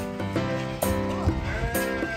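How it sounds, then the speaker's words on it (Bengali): Sheep at a Canadian farm livestock market bleat in three or four wavering calls close by, with other animal sounds behind. "These are sheep."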